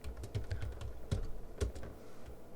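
Computer keys tapped in a quick run of soft clicks, then a couple of heavier presses like an enter key, close and moderately quiet over faint background noise, no talking.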